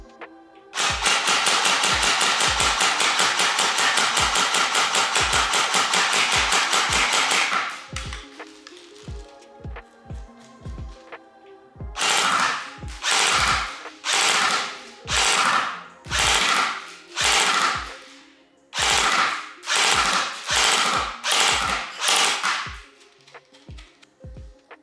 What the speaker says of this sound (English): the ARC has been removed from the clamp and is being fired unsupported offhand.